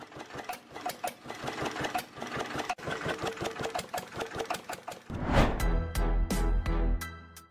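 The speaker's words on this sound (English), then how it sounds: "bro's Volkswagen is powered by a 1920 farm tractor." An old 1920 farm tractor engine fitted in a Volkswagen chugs with a rapid, even knocking beat, then a louder, deeper burst follows near the end.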